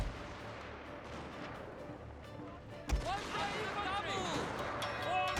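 Cannon and artillery fire in a Fall of the Samurai battle of Total War: Shogun 2, booming shots amid battle noise with a sharp blast near the middle, while someone talks.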